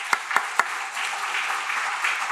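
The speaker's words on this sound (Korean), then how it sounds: "힘든 시대를 살아가고 있는 고등부 친구들에게 우리 이 시간 다시 한번 격려의 박수 부탁드리도록 하겠습니다" A church congregation applauds to encourage the high school youth group, opening with a few distinct separate claps that quickly blend into a brief, moderately loud wash of clapping.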